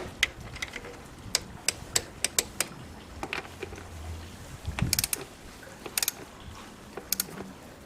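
A ratchet clicks in quick bursts of sharp ticks, pausing between strokes, while 10 mm fasteners are tightened on a Toyota Avensis engine up close.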